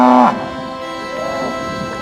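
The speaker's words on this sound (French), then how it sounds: "Gérard Boniface tenait une ferme adaptée à l'élevage des vaches et à la production du lait" Cow on a dairy farm giving one long, loud, close moo that starts on a strong low tone and slides into a drawn-out bellow.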